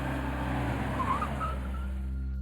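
A car braking hard to a halt with its tires skidding, a loud sustained low rumble and squeal that fades out as the vehicle stops, with no voices.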